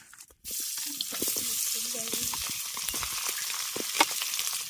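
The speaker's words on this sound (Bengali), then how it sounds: "মাছগুলোকে লাল লাল করে ভেজে নিই" Tengra fish fry in hot mustard oil. After a short quiet start, a sharp burst of sizzling becomes a steady crackling fry, with a faint voice murmuring underneath.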